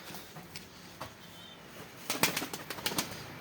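Pigeons, smoky-colored and tall like storks, in a Turkish pigeon loft: soft background noise, then a close burst of rapid wing flaps and flutters near the end.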